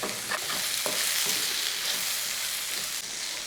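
Egg chilli gravy with capsicum and onion being stirred in a frying pan, a loud continuous sizzle with scraping spoon strokes, close up and without talk.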